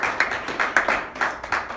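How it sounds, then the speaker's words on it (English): A small audience claps to welcome speaker Mark Hatch at an IT security talk, with a rhythmic pattern of fairly close, bright claps rising and falling in waves over a short stretch. "Let's give him a big round of applause."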